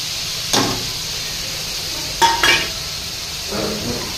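Masala with chicken masala, black masala and turmeric sizzles in hot oil in a pan, a loud continuous hiss close up, punctuated by a few metallic knocks and scrapes of a spoon against the pan.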